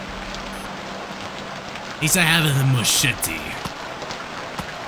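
Constant hissing rain in the survival game Stranded Deep runs throughout, briefly covered by a man's short spoken remark in the middle.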